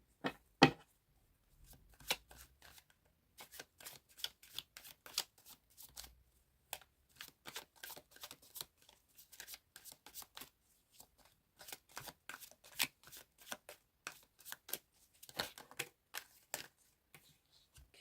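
Tarot cards shuffled in a long run of crisp riffling bursts and soft slaps, close and fairly quiet, with brief pauses between rounds and no talking.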